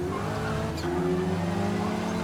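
In the Forza Horizon racing game, a race car brakes into a corner and is rear-ended. A steady, droning engine tone plays throughout, with one short knock-like blip near the start.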